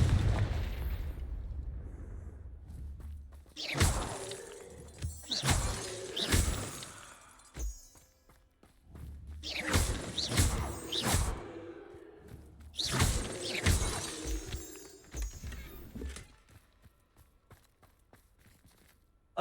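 Confringo spell blasts in Hogwarts Legacy, three separate bursts of shattering explosion with crackling debris and whooshing tails, loud and close, separated by quieter gaps.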